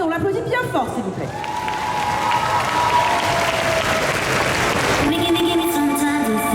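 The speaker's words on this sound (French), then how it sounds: "On l'applaudit bien fort s'il vous plaît." A crowd applauds and cheers a Spadassin cosplayer from the game Fly for Fun at a cosplay contest at TGS Toulouse 2022. Loud sustained clapping carries a few whoops, with music playing and a voice heard underneath.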